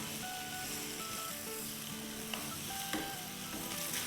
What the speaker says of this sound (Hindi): तो ये सारे चले गए हमारे आलू और इसे अब हम अच्छे से फ्राई करेंगे।